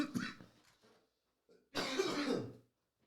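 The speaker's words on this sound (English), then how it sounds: "Nah, we're almost done with this cough." A man coughs twice, a rough throat-clearing cough followed after a short silence by a longer, harsher hacking cough, close to the mic with quiet gaps around them.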